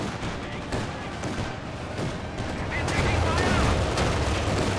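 Machine gun fire in the Company of Heroes 2 video game, a dense, continuous roar of gunfire and battle noise that swells slightly louder toward the end.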